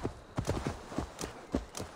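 Horse hooves in Assassin's Creed Valhalla, a quick, uneven clip-clop of a ridden horse with about a dozen close, distinct hoof strikes over two seconds.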